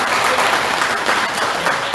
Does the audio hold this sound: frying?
no